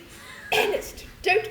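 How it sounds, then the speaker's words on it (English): Two short coughs in a staged comedy scene from The Importance of Being Earnest, each a sharp, close burst, the second coming under a second after the first, with quiet between them. "don't cough"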